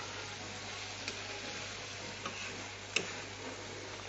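Fried aar fish simmers in a pan of gravy, giving a faint, steady sizzling hiss broken by a few soft clicks and taps.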